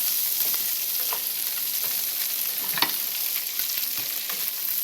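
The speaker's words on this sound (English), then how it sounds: "I'm adding my minced garlic" Minced garlic sizzles steadily in a hot pan for a lobster and shrimp linguini in creamy garlic sauce, a continuous close frying hiss with small crackles and no voices.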